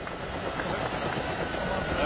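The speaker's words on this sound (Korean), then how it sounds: "헬리콥터로 하는 섬 일주를 신청했습니다" A helicopter in flight on an island sightseeing tour in French Polynesia, a steady loud rotor and engine drone heard from inside, with voices partly under it.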